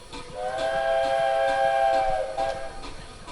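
A steam locomotive on the Ravenglass and Eskdale Railway sounds its whistle in one sustained chord of nearly two seconds, followed by a short second toot over the train's background noise.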